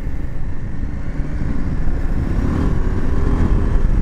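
A KTM 890 Adventure R motorcycle's engine drones steadily and loudly up close, its revs rising and falling slightly with a continuous low rumble and no speech.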